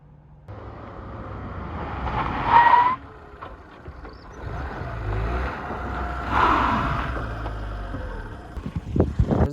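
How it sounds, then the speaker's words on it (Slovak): A repaired car, recently fixed after a crash, drives along a road with brake testing, two swells of engine and tire noise rising and falling, with brief skid-like bursts near the end. "mohol si auto otestovať na ceste a vyskúšať poriadne aj brzdy"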